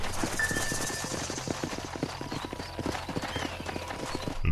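Horses trotting in a video game, a steady run of hollow clip-clop hoofbeats throughout, loud and close over a low engine-like hum, with no talk.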